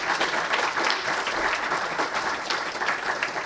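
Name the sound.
audience clapping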